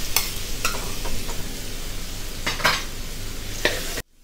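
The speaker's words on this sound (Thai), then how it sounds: "กระเทียมสับครับใส่ลงไปได้เลยครับผมเราจะไปผัดให้หอมแล้วก็ออกเหลืองๆหน่อยๆนะครับ" Minced garlic stir-fries in a pan with a bright, close sizzle, punctuated by sharp spatula scrapes and clinks at an uneven pace, before cutting off abruptly near the end.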